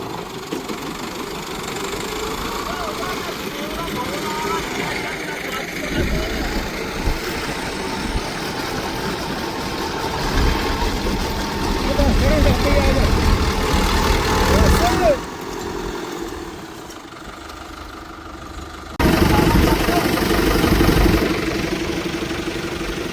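A tractor engine idles with a steady, rumbling, slightly knocking drone during the rice-paddy season, with a chain hitched to it. The sound stays loud and close throughout, shifting in level partway through, while voices talk nearby.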